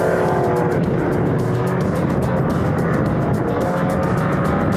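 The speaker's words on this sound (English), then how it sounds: "Patrick Gearing's Alpha is managing to hold Roy Prondo's Alpha at bay for the moment as they head towards the boot" Historic Alfa Romeo race cars at Phakisa circuit roar along in a loud, continuous engine drone with rapid rhythmic pulsing, close and steady throughout.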